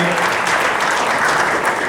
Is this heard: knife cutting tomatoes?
no